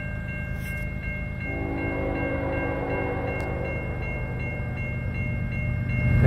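EOS 44 diesel locomotive leading a train at full throttle. A loud, steady engine roar with a tonal hum builds gradually and grows louder toward the end, with no talk.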